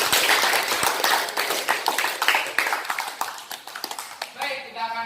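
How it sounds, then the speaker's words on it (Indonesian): Hands clapping from an audience at a school debate session, a dense burst of claps that thins into scattered individual claps over about five seconds, with faint voices underneath. "kita mulai inti debat pada tepuk tangan untuk kita semua."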